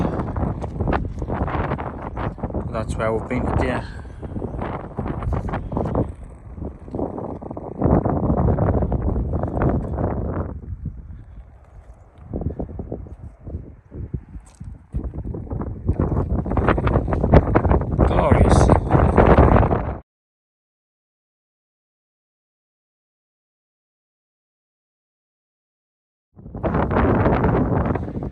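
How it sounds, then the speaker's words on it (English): Strong mountain wind near Helvellyn buffets the microphone in heavy roaring gusts, with people talking under the noise, then a sudden silence before the gusts return. "Probably can't hear us for the wind."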